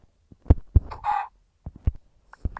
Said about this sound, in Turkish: Merhaba tavuk.